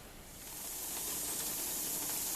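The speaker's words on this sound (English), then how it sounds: "you can see that the steam is coming up, and the valve is up" Steam hissing from the valve of a pressure canner loaded with ground pork and chuck, a steady broadband hiss that swells gently and holds, faint and continuous with no talk.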